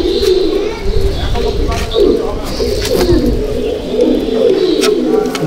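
Malbai (Panjabi) pigeons coo steadily at close range in a loft, their low throaty calls overlapping in a continuous rolling murmur with occasional sharper chirps and rustles.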